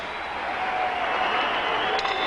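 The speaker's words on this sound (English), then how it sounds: "they both deserve a round of applause" Sustained applause and crowd noise from a boxing arena audience after the 12-round Johnny Tapia vs Paulie Ayala fight, a steady broadband wash at moderate level with no breaks.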